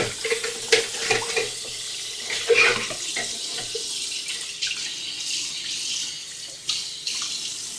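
Water runs steadily from a tap into a sink, splashing and gurgling at a moderate level, with a few clattering knocks mixed in.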